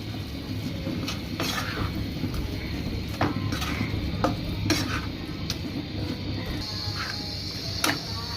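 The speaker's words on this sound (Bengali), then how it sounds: "দিয়ে ভালোভাবে নাড়াচাড়া করে নিতে হবে।" A spoon stirring a chilli and spice powder mixture in a pan for a chicken bun recipe, scraping and clinking against the metal in an uneven rhythm over a low sizzle, close and fairly loud.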